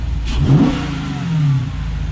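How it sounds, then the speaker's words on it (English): A nearby car engine, heard through a shaker hood scoop, revs up and settles, rising twice in throaty swells over a steady low rumble, with no talking. "You hear the engine now."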